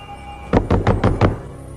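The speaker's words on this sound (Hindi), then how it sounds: "दरवाजा खोलो पीटर, मैं तुम्हारी मदद कर सकता हूँ" Five firm knocks land on a door in a Hollywood film scene, close and evenly spaced, over a faint steady background hum.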